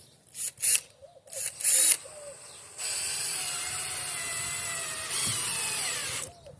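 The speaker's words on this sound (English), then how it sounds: "I'll drill some pilot holes." A power drill whirs in a few short bursts, then runs steadily for several seconds while drilling pilot holes for a chicken coop, close and fairly loud.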